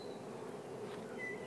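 Swarm of about 20,000 honey bees clustered on a tree branch, a steady, soft, continuous buzzing hum with a few individual bees whining past close by, no voices.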